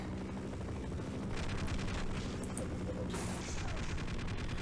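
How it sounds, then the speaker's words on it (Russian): A helicopter in the video game Half-Life thrums steadily with a dense rotor drone, overlaid by bursts of rapid gunfire, loud and continuous throughout. "Сейчас мы попробуем еще вертолет."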